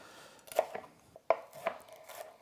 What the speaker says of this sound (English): So I want to cut it into small pieces like this.